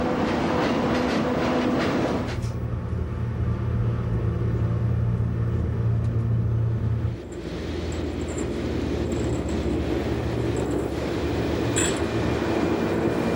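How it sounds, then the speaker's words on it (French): A Glacier Express rack railway train descends a Swiss mountain line between Zermatt, Brig and Disentis on brakes and rack, giving a loud steady rumble with a low droning hum that drops away partway through, then continued rolling noise. "À l'aide des freins et de la crémaillère, nous entamons la descente"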